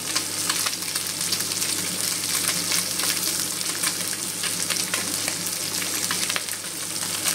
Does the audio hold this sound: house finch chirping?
no